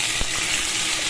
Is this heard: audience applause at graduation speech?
no